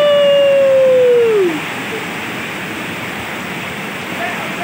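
Flood water rushes in a broad, steady roar of churning waves, loud and continuous, with a brief falling whistle-like tone at the start.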